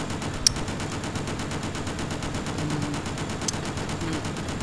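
Rapid, continuous automatic gunfire rattles steadily in the video game Just Cause, a dense stream of shots at moderate volume with no talk over it.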